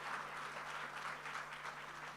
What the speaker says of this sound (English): come and give her a round of applause